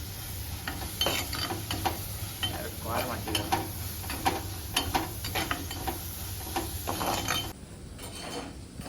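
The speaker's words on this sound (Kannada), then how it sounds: "ಈಗ ಈರುಳ್ಳಿ ಫುಲ್ ಇದೇ ಥರ ಕೆಂಪಾಯ್ಕೊಂಬ" Onions sizzling and frying in oil in a pan, a steady crackling hiss with frequent stirring scrapes and light utensil clinks against the pan, close up, ending with the sizzle quieting.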